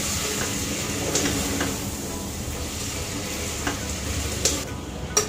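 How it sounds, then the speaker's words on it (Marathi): Soybean pulao sizzling in a pot as it is sautéed and stirred with salt, a steady close frying hiss with faint scraping of the spoon, no talk. "घालणार आहोत मीठ. चांगलं परतून घ्यायचंय."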